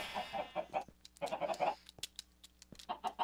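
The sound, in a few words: chickens clucking in video game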